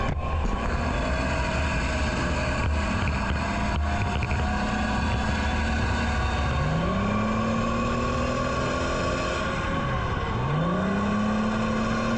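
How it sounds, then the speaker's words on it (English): M113 armored personnel carrier engine running loud and close in a war zone, a constant heavy drone with revs that climb, dip and rise again. "Now I hear them revving the engine to close the door, and now they're moving the M113 out"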